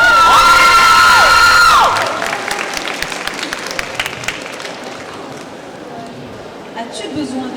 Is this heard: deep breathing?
no